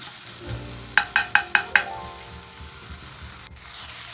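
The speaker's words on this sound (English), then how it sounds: "We're just going to let that saute for about 1 minute." Food sautéing in a pan as a base for macaroni, a steady soft sizzle broken by a quick run of five sharp clicks like a utensil tapping the pan, then a single knock near the end.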